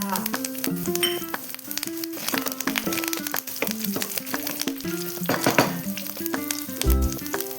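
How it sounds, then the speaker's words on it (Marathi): Curry leaves and sesame seeds sizzle steadily in hot oil while cabbage karpi is being made, a continuous frying crackle running under prominent background music. "तीळ पण छान अशी परतून घेऊ. त्यानंतर टाकणारे आपण कढीपत्ता,"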